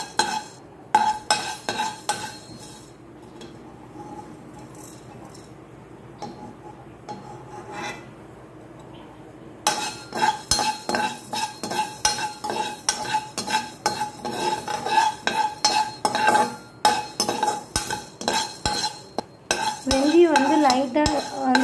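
Fenugreek seeds dry roasting in a pan, stirred with a spoon: dry rattling, scraping strokes that start sparse and soft, then turn into steady, rapid rhythmic scraping and clinking against the pan.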